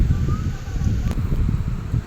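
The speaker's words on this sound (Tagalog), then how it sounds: "Hindi ko alam kung rinig nyo yung hangin, guys, no? Hangin na galing sa sa Bagyo." Strong typhoon wind buffets the microphone outdoors in Pangasinan, a continuous low rumbling roar with gusty surges and faint rustling.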